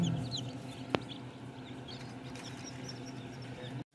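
Newly hatched chicks from a cabinet incubator peep faintly and sporadically over a steady low hum, with one sharp click early on.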